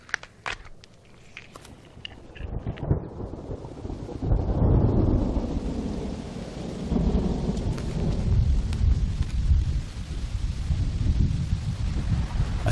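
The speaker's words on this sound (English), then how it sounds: "A sudden storm blasts the steppe" A thunderstorm breaks over open steppe, with a sharp thunder crack early on, then a steady roar of heavy rain and wind, rumbling and loud, continuing to the end.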